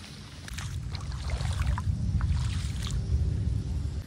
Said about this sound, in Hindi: देखिए कितना मस्त पानी ऊपर से गिर रहा है